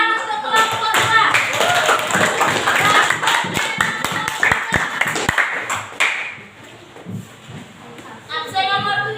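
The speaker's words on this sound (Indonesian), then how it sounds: "Dan tepuk tangan untuk kelompok 2." A class claps for a student group, several seconds of lively hand clapping mixed with voices and chatter, thinning into a few sharp taps before clapping swells again at the end.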